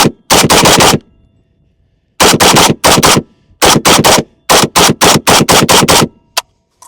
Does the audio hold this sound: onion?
no